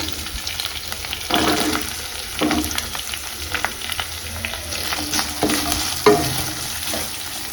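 Chopped onions frying in a hot pan for egg rice, a steady crackling sizzle broken by several scraping stirs of a spatula, close and fairly loud with no talk.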